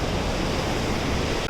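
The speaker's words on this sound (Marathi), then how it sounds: "फर्स्ट टाइम मी बघते की धरणाचे दरवाजे खोलले आणि पाणी किती फोर्स आहे" Powerful, continuous roar of water forcing out through the opened gates of Barvi Dam near Badlapur in the rainy season, dense and unbroken like surf, heard alone at close range.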